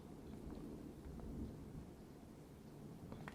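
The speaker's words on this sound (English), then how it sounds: "it's thundering like hell outside" Thunder rumbles outside, a low, continuous roll with rain hissing steadily over it, heard from indoors and fairly faint, with no talk.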